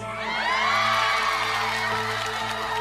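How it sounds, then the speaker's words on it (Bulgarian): Guests at a celebration cheer and whoop loudly for the proud parents, a dense crowd roar that holds steady for about three seconds with no clear speech on top. "моля вашите аплодисменти за най-гордите родители днес"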